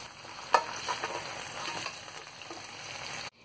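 Steady crackling sizzle of chicken frying in hot oil, close up, with a sharper pop near the start and a sudden cutoff at the end.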